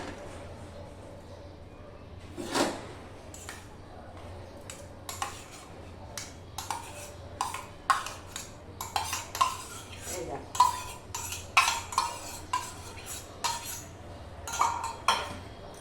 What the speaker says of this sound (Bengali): এই যে সাবুদানাটা দেবো আর নাড়বো